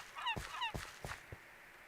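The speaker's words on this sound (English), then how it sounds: "Oh, stupid seagulls." Seagull calls in the Minecraft video game: a few short, squawking cries repeat in quick succession at moderate loudness, with brief gaps between them and no talk.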